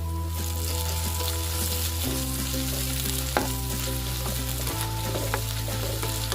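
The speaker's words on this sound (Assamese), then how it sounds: "মোৰ নহৰু আৰু আদাখিনি ভজা হৈ গ'ল।" Garlic and ginger paste fries in a pan. A loud, continuous sizzle carries on with light stirring scrapes over a steady background hum, and no one talks.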